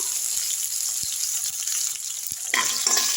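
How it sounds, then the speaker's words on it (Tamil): Onions and green chillies sauté in a pan for sambar rice, a close, steady sizzle with a few light ticks, swelling into a louder crackling surge near the end. "பச்சை மிளகா போட்டுக்கலாம் வெங்காயம் வதக்கி விட்டுடலாம்"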